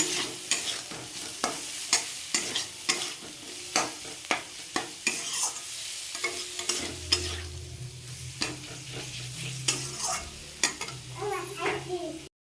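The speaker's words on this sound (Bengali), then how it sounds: "ভালো করে কষিয়ে নেবো আলুটা" Potatoes being stir-fried in spices in a pan, with a spoon scraping and knocking in a steady rhythm over a soft sizzle, and faint background voices toward the end.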